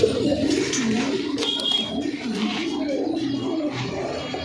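High flyer pigeons coo in a low rolling murmur, several birds close by, with a few faint higher chirps and light background noise.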